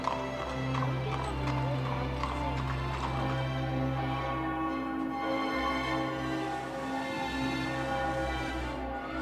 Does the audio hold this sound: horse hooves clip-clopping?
yes